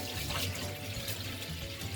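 Warm water streams steadily from a tap for a rinse, a continuous close splashing flow with no voices.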